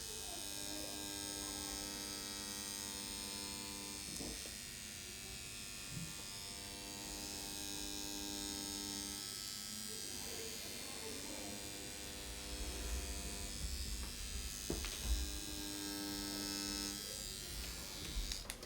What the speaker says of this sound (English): you're gonna turn your machine on